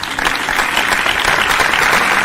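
A ghazal concert audience claps steadily and loudly, a dense wash of applause that fills the whole moment without letting up.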